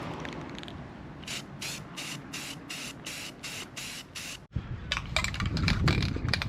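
Spray paint can spraying a rusty car hood in a driveway, heard as a series of about nine evenly spaced short hissing bursts, then denser, rougher spraying and rubbing close by.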